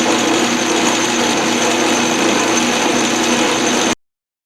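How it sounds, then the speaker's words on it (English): A machine cuts off a heat-treated steel die with a loud, steady, dense whirring roar that holds evenly for about four seconds and then stops abruptly. "Cutting something off."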